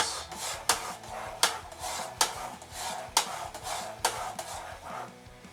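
Homemade barbecue sauce of crushed tomatoes, tomato paste and ketchup being stirred in a pan, with scraping, rubbing strokes at a steady rhythm, about one stroke per second and clear throughout.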